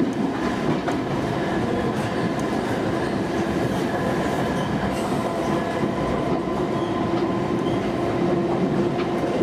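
A London Underground train rumbles steadily along the rails, with a continuous loud roar and faint rhythmic clatter of wheels throughout.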